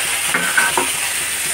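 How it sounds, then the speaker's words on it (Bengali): Mixed vegetables stirred and fried together in a pan, a steady soft sizzle with a few brief scraping accents from the stirring, close by with no talking. "হজবরলা সমস্ত কিছু একসাথে কিছুক্ষণ নাড়াচাড়া করবো"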